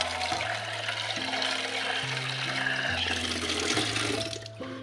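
Tap water runs steadily from a faucet while coffee is being made at home, a continuous rushing flow with shifting low tones, fairly close and alone before tapering at the end.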